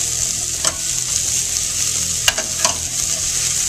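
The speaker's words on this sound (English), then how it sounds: "Here is the tempeh onion mixture sauteing in the pan." Tempeh and onion sauté in an oiled pan with a steady, close sizzle, broken by a few sharp scraping stirs of the utensil against the pan; no one speaks.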